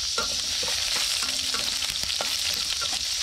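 Chopped garlic frying in a hot pan over an outdoor cooking fire, a steady, close crackling sizzle with faint stirring clicks, running continuously with no voices.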